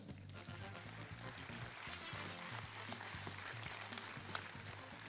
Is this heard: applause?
yes